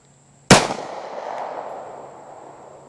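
A single loud, close gunshot from a 3-inch Taurus GX4 pistol firing 9mm +P Telos ammunition, a sharp crack followed by a long ringing decay, alone with no talk.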